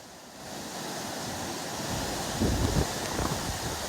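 Floodwater from an overflowing lake rushes through a town in a steady, broadband roar that swells slightly partway through, continuous and without voices.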